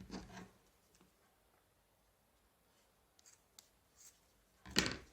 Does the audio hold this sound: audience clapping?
no